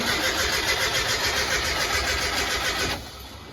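A Brubaker Box car's engine cranks over and over in a steady, even rhythm as it tries to start, loud and close, then cuts off near the end.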